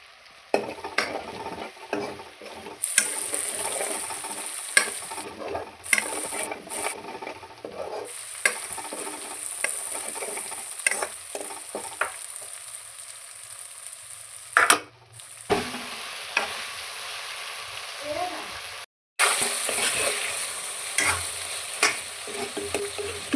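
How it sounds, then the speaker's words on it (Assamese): Chicken fries in a pan with garam masala, Kashmiri red chili, cumin, coriander and meat masala while being stirred, a close sizzle broken by repeated scraping and clinks of a spoon, with a couple of short pauses. "মাংসখিনি এতিয়া মই একেবাৰে সিজি যোৱালৈকে ভাজি ল'ম"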